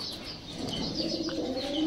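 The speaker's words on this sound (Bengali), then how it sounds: "এই রেসার কবুতরটা" A ten-year-old racing pigeon coos softly in a loft, a low continuous burbling heard close by, with faint chirping and slight rustling around it.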